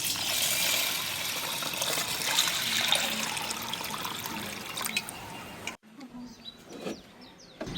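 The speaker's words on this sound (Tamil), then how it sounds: "அடுத்தது கொஞ்சமா தண்ணியை ஊற்றி ஊற வைப்போம்." Water pours steadily and splashes into a container of soaking lentils for several seconds, then stops, leaving small clinks and drips.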